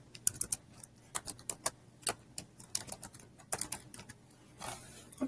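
Someone typing a keyword search on a computer keyboard, a quick irregular run of close, crisp key clicks with short pauses between bursts and no talking.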